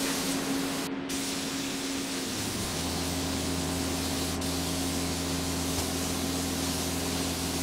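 A spray booth runs during frame repairs on an abandoned Ducati 748 SPS motorcycle, giving a loud, steady, unbroken hiss over a low mechanical hum throughout.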